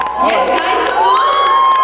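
Pageant audience cheering and whooping for a contestant on stage, a loud sustained crowd roar with scattered shouts and a few claps throughout.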